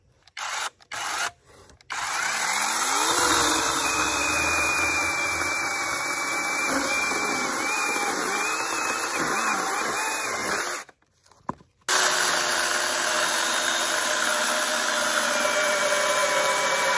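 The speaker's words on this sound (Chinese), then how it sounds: "搞把电锯，这回就拉的不用拉了啊，试一下这个" An electric chainsaw cuts firewood with a loud, steady, close whine that runs for several seconds, stops briefly, then starts again. No one speaks.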